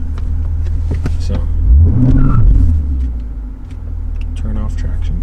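A Lexus RC F with a V8 engine rumbles deeply while driving, swelling into a brief rising rev before dropping back to a steady drone, with a person talking over it.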